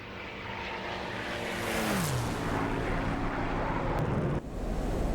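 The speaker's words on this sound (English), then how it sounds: "We'll jump in the F16 and we'll go nice and low over the Syria map" An F-16 jet in the DCS World flight simulator roars past low over the Syria map, a loud, steady broadband rush whose engine tone sweeps downward as it passes, with no talk.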